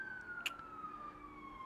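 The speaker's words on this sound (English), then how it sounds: "Here we go, we can hear the sirens." A single faint siren tone wails in the distance in Dubai, slowly falling in pitch, with a brief click near the start.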